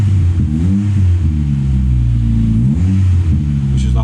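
A Toyota Starlet Sportif engine revs and settles repeatedly, a loud, close, rumbling idle rising and falling in pitch over a few seconds while warming up.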